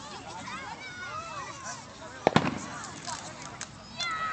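Fourth of July fireworks burst close overhead, with a loud sharp crack midway and scattered pops and crackles after, under a steady hum of crowd voices.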